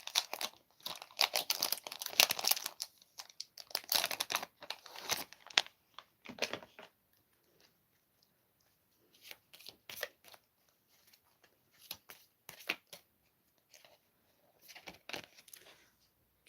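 Oracle cards being handled and shuffled up close, dense papery riffles and rustles at first, then sparse soft flicks and taps with quiet gaps.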